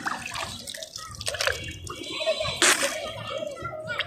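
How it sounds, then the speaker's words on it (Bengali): Mouth rinsing with fresh pond water at a park: short watery gurgles and splashy drips in a few brief bursts, close and fairly clear, with a voice talking at moments. "একটু কুলি করলাম।"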